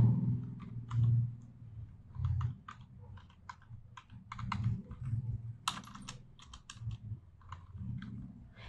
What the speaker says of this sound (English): So I'll be typing the code.